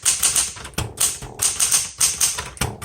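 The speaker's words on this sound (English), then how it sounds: "And then now we'll just come back down and we're ready to type." Rapid bursts of typewriter keystrokes on a 1970s Smith Corona Galaxie Deluxe, close and crisp, in quick clattering runs separated by brief pauses.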